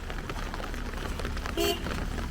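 Steady rain falls in a forest near Kasol in Himachal Pradesh, a dense continuous hiss of drops on leaves and ground with no voices, close and even throughout.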